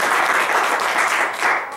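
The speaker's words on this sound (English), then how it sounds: "Let's clap for her." A church congregation applauds in a steady, dense wash of clapping that holds at an even level throughout, with no speech over it.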